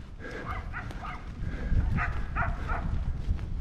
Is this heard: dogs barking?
yes